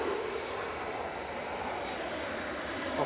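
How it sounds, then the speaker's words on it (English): An Airbus A380 airliner lines up for takeoff at Manchester Airport, its engines giving a steady, distant broadband roar that holds even and unbroken throughout. "And the A380 is lining up."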